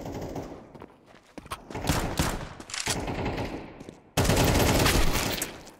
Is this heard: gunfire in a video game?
yes